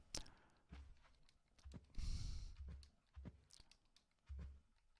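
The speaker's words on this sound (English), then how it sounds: "Sorry if I go quiet, guys, it's just because I'm typing." Typing on a computer keyboard: scattered, quiet keystroke clicks come in small uneven clusters with brief pauses, faint and close, with no voice.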